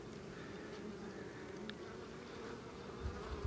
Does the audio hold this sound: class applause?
no